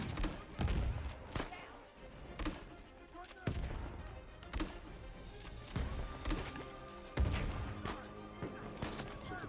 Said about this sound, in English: Just a ton of grenades wasted.